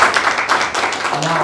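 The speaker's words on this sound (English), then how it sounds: "give them all a round of applause" An audience applauds at an Australian Labor Party funding announcement event, a dense, steady wash of clapping from a crowd with a voice speaking over it.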